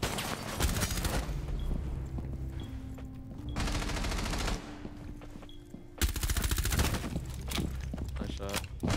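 Rapid gunfire bursts in the tactical shooter Rainbow Six, loud close automatic volleys and single shots broken by brief pauses, with footsteps and game noise around them.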